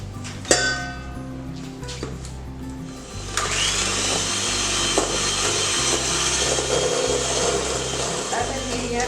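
An electric mixer starts after a few clunks and whirs steadily, creaming softened butter and sugar in a bowl with a continuous close motor drone and beaters scraping.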